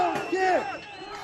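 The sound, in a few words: protest crowd chanting in Kazakhstan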